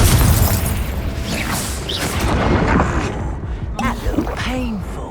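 The Confringo explosive spell from Hogwarts Legacy: booming blasts and bursts over busy game noise, with voices speaking throughout.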